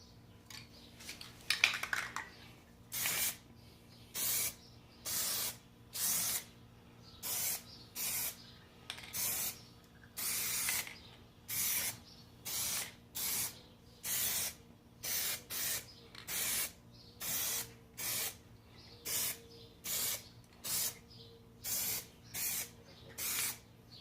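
An aerosol can of Plasti Dip sprays a second coat onto car rims and tail lights in about twenty short, evenly spaced hissing bursts, each lasting under a second, with quiet pauses between them.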